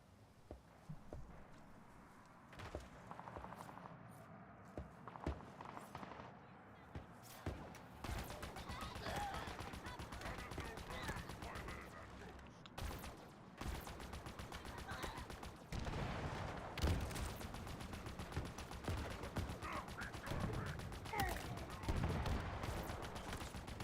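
Enemy gunfire in the Halo Infinite campaign on a large open map, steady bursts of distant shots and rattling fire spread over a continuous bed of game ambience and music, with scattered footstep-like thumps.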